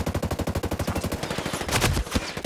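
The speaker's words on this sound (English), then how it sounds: "I hear gunfire." Rapid automatic gunfire in the video game Ghost Recon Breakpoint during a PvP match, a fast, loud burst of evenly spaced shots followed by a few heavier scattered blasts.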